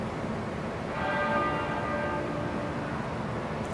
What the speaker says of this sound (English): To the tolling of a single bell